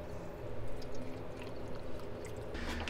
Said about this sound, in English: go ahead and pour some DI in here